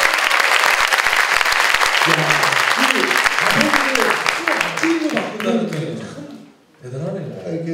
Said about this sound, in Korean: 그래서 그럼 박수 한번 주세요